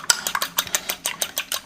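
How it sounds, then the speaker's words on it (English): Egg and water egg wash whisked in a bowl, giving a quick series of sharp clinking taps of utensil against the bowl, fairly close and steady, with no talking. "You can see the egg wash that I'm just beating over here."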